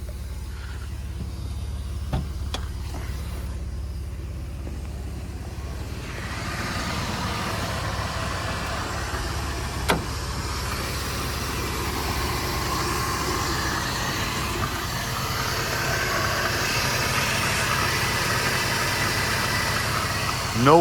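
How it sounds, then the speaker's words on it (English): A Mercedes 190E 2.6 with about 58k miles idles steadily with the hood open, a low, even engine hum running throughout, close and moderately loud with no other sounds over it. "Let's see if I can pop the hood so you can hear this engine run."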